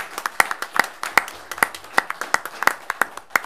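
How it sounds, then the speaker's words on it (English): Audience applause at an Oroville city council meeting, a room of people clapping in a steady, irregular patter of sharp hand claps for a few seconds, fairly close and without speech. "why everybody was clapping"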